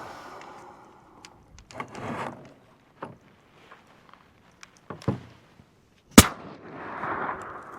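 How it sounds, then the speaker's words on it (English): A single sharp, loud gunshot cracks from a .22 Creedmoor rifle firing a 40 grain bullet at an outdoor range, preceded by faint handling clicks and followed by a lingering echo. "that bullet hit the ground in front of the target"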